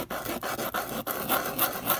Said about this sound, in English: Now when you sand the side where your wire went through, sometimes your hole will fill up.